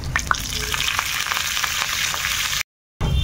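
A loud, continuous sizzle comes from a tempering of spices, crushed garlic, asafoetida and curry leaves frying in hot oil. A few sharp pops stand out, and the sound cuts out briefly near the end before resuming.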